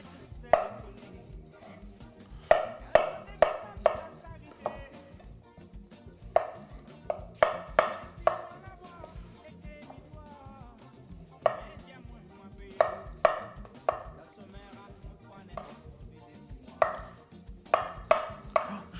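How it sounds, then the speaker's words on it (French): Potatoes chopped with a knife on a board, giving sharp rhythmic clusters of cuts in quick bursts separated by short pauses, fairly quiet and close, with no talking. "Pommes de terre, on va juste les couper."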